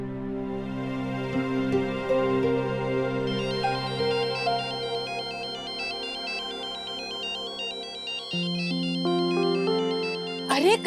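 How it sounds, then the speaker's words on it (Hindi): A telephone ringtone plays a bright electronic melody that loops without pause, loud and close, with no talking over it. "अरे कब से फोन बजे जा रहा है, कोई तो फोन तो उठा लेते।"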